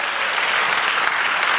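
Steady, dense applause from a church congregation fills the space, a continuous wash of many hands clapping at an even level throughout, with no voices rising above it.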